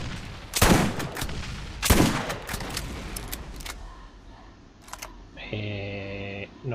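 Gunfire in the Borderlands video game: a few sharp, loud shots at irregular intervals with smaller cracks between them, then a steady electronic tone near the end. No one speaks.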